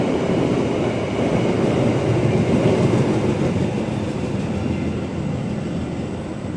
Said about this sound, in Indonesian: Argo Merbabu baru melintas tujuan Semarang Tawang